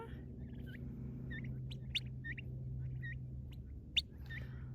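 Free-range farm birds forage outdoors with repeated gobbling and sharp chirping calls over a steady low hum, plus a couple of brief louder clicks.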